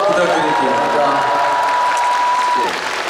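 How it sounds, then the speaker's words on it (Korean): Applause from a concert audience at a show, a steady broadband wash of clapping lasting a few seconds with a voice carrying over it. "다 같이 박수 한번"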